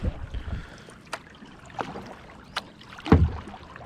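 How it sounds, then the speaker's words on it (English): A wooden paddle dips and pulls through lake water beside a kayak, giving several soft splashes and drips at an unhurried pace, close by with light wind noise. "I got my wooden kayak paddle built by my wife's uncle, Dwayne Kohler"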